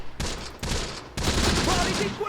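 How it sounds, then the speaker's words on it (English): Machine gun fire in the Close Combat video game, loud close bursts of rapid shots, a short burst, then another, then a longer sustained stretch of firing, with a faint voice underneath. "this machine gun is not firing well either"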